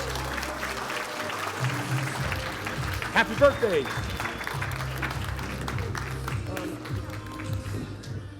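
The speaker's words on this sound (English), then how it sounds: "let's give them a big Yes. round of applause." Audience applause at a live real estate event stage, a steady bed of clapping from a crowd with a voice speaking briefly over it partway through.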